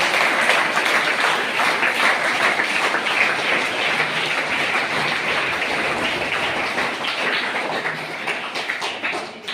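An audience at a school police awareness event claps steadily and densely for several seconds, a broad patter of many hands at an even level with no talking on top.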